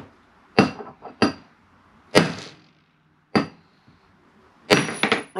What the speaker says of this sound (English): Just a couple of whacks with my bolster.